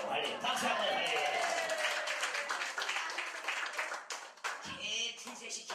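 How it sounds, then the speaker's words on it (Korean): A church congregation at a revival meeting breaks into loud, dense clapping and cheering, a continuous wash of hands that fades slightly toward the end with voices mixed in. "박수 한번 할렐루야."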